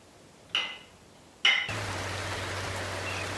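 Rain falls outdoors as a steady, even wash of patter that starts suddenly after two brief clicks and then holds at a constant level, with a low hum underneath.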